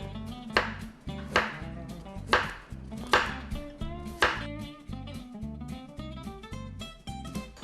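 A knife chops carrot on a board for water kimchi, giving about ten sharp, evenly spaced thuds up close, each one ringing briefly before the next, with no talk.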